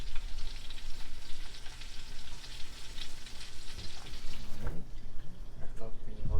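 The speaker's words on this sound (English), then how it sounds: "it's nice and sizzling." Meatballs frying in a pan hiss in a steady, close sizzle, with a few clinks and knocks near the end.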